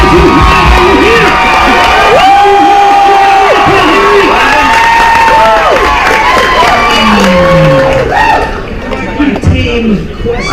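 A studio crowd cheers and whoops loudly for several seconds, voices and shouts overlapping in a dense roar before thinning out toward the end.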